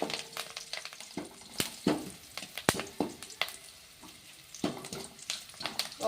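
Cumin and garlic tempering sizzles in hot oil for poha chivda, a crackling fry broken by repeated sharp scrapes and clinks of stirring against the pan, loud and close, with no voices.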